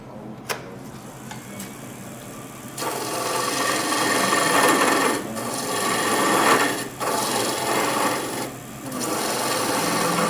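Skew chisel cutting a spinning wood workpiece on a lathe, a steady close rasping, scraping hiss that swells louder partway through and runs continuously with brief gaps.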